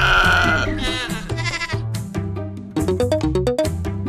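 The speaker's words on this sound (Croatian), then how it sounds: "Muflon, divlja ovca." A mouflon, a wild sheep, gives a short wavering bleat at the start. Bright, bouncy children's music with plinking notes follows.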